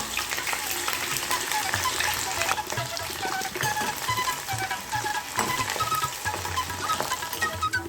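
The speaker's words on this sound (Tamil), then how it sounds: "இப்போ நம்ம ரெடி பண்ணி வச்ச கோவக்காயெல்லாம் அதில் சேர்த்துடலாம்" Ivy gourd (kovakkai) frying in hot oil in a kadai over a medium flame, a steady dense crackle and sizzle that holds throughout with bits of stirring, close and fairly loud.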